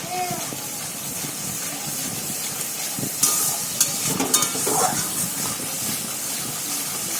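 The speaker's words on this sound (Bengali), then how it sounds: "এবার এর মধ্যে আলু পটল দিয়ে সেটাকে আমি ভালো করে কষে নেবো" Potatoes, pointed gourd and soya chunks sautéing in spices in a pan give a steady sizzling hiss, with a few louder clatters and scrapes of stirring midway.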